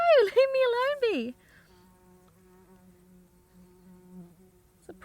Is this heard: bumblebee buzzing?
yes